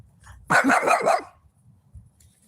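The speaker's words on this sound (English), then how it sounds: "The dog is barking because it's lonely." A dog wearing a reindeer sweater gives a single close, loud, drawn-out bark or howl lasting under a second, followed by quiet low rustling.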